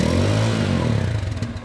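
A 2024 Bajaj Pulsar N250 motorcycle with dual exhaust revs up during a sound check, a loud, close, throaty engine roar that settles into a pulsing idle within a couple of seconds.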